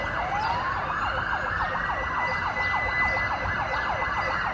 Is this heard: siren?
yes